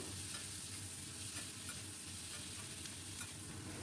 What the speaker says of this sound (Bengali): এরপরে দিয়ে দেব কিউব আকারে কেটে রাখা পেঁয়াজ কুচি। আবারও খুব ভালো করে নাড়িয়ে নেব।